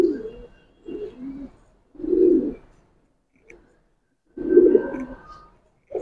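Giribaz pigeon cooing close by in a few separate rounded bursts with quiet gaps between, no talking.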